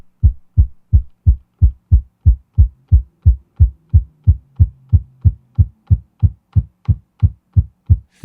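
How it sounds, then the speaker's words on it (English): Kick drum from a Roland P-6 drum machine with its low end cut, a steady loop of about twenty-three punchy thumps in even rhythm, loud and alone. "we can really get a whole new kick drum"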